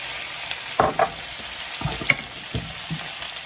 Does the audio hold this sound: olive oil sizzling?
yes